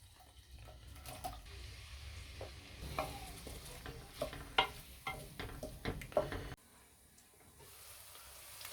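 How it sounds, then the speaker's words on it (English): Onions fry in oil left over from frying aubergine for a potato curry, a soft steady sizzle with irregular clinks and scrapes of stirring, then quieter sizzling alone near the end. "We're going to use the same oil and we're going to add onions in there."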